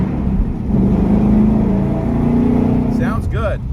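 A 2024 Ford Mustang GT's fourth-generation 5.0 V8 drones inside a tunnel, a loud, low, throaty engine note that holds fairly steady. A short burst of voice comes in near the end.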